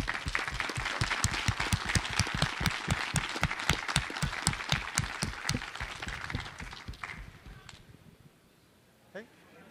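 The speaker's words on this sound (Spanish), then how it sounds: "Un aplauso, por favor." An audience at a software development conference claps together in a dense burst of applause for about seven seconds, then it thins out and fades to scattered claps, with a voice briefly under it.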